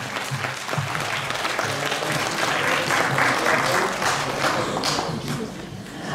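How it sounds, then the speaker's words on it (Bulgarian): A hall audience applauds young artists aged six to eight at a children's art awards ceremony in Topolovgrad, a loud, dense, sustained round of clapping that holds steady throughout with no talk over it. "Аплодисменти за най-младите художници на Тополовград"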